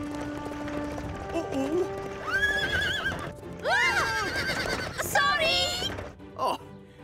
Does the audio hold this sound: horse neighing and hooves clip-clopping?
yes